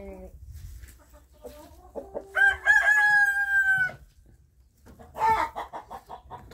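A rooster on a small farm in cold winter weather lets out one long, loud crow near the middle, with hens clucking and scattered farmyard sounds before and after.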